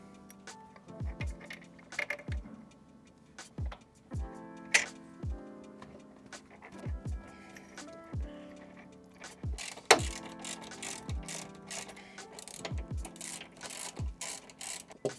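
Bolts are threaded into plus nuts in a Sprinter van floor, producing faint, close clicks and metallic ratcheting ticks in irregular clusters that grow busier toward the end.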